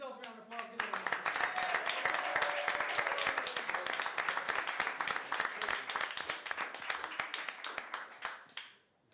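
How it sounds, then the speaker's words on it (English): Audience at a town council meeting applauds a girls flag football team, dense sustained clapping that fills the room for several seconds before tapering off near the end. "Give yourselves a round of applause."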